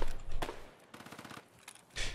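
Video game gunfire with an MP7 fitted with subsonic rounds, short bursts of rapid automatic fire in quick rattling runs separated by brief pauses, fairly close and punchy.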